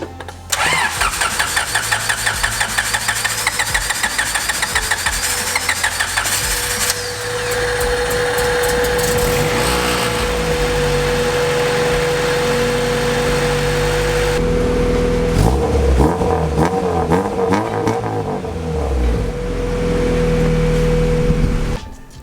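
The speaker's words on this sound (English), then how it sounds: "I'm gonna give it a crank and see if it starts" Honda CRX engine cranking with a rapid, even starter chug for several seconds, then catching and running roughly at idle, briefly cranked and restarted partway through, close and loud with no talking.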